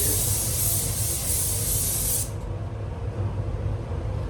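Paint blasts from a spray gun onto a Mitsubishi Colt CZT during a respray, a loud steady hiss for about two seconds that stops abruptly, leaving a quieter background rumble.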